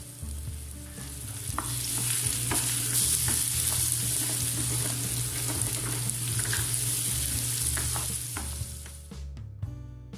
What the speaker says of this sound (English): Heat a pan, adding 1 or 2 tablespoons ghee. Add the chopped plantain and mix for 4 to 5 minutes.